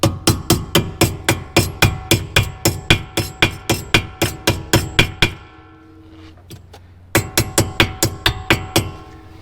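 Steady hammer blows ring out in a fast, even rhythm during a Ferrari 458 brake pad change, pause briefly amid a few faint knocks, then resume with another quick run of strikes.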